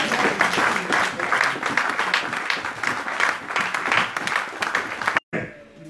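Church congregation applauding after a sermon, a steady dense wash of clapping from a crowd that cuts off abruptly near the end, leaving quieter room sound.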